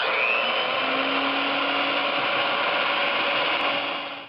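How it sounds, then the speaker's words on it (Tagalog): An electric mixer whirs through chiffon cake batter, a steady, fairly loud motorized drone held at an even pitch before tapering off at the very end. "After this, gagamit tayo ng electric mixer. And, imimix lang natin ito."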